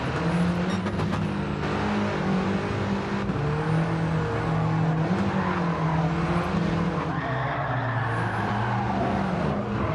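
Race car in Gran Turismo 7 runs with a loud, continuous engine whine that rises and falls with gear changes, overlaid with tire scrub and skidding noise, and no talk.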